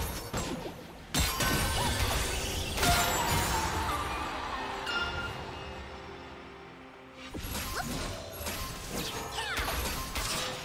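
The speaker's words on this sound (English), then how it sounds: "Red team's turret has been destroyed." A turret is destroyed in a League of Legends mid-lane match, with sharp crashes and mechanical clanks, a whooshing burst, and then a short lull before more impacts and crumbling debris.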